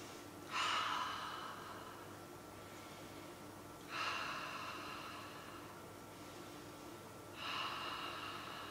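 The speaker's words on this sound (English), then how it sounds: "Put your hands on your heart and take 3 deep breaths." Three slow, deep breaths taken one after another, each an airy inhale or exhale roughly three and a half seconds apart, close to the microphone over a quiet background hum.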